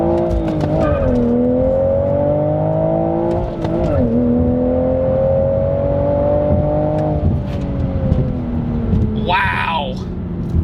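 Engine of a 2023 Toyota Supra with manual transmission pulls hard in sport mode, its loud, steady drone rising in pitch through the gears with brief dips at shifts, and a voice speaks briefly near the end.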